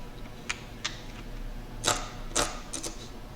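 Fast mouse clicks from drag clicking while playing, a few sharp bursts of quick clicks spaced irregularly, close and alone without talk.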